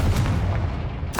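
A Confringo blasting spell fired in the Hogwarts Legacy video game lands as a deep, rumbling explosive boom that fills the moment, with a second burst at the end; no talking over it.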